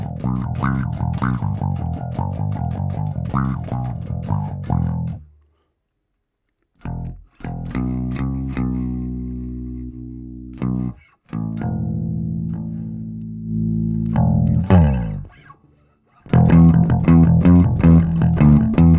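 A bass guitar with noisy pickups played through an OVERLOUD TH-U amp simulation, its crunchy distorted tone chugging in loud riffs broken by abrupt silent gaps and sustained ringing notes.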